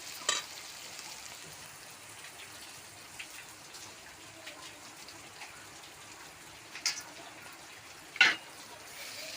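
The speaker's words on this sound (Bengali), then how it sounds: "চিকেনটা দিয়ে দিলাম চিকেন পেঁয়াজ একসঙ্গে মিশে ভেজে নেবো" Chicken fries with onion, tomato and bay leaf in a pan for a red Bengali chicken curry, a faint steady sizzle punctuated by a few sharp clinks and stirring knocks, close by with no talking.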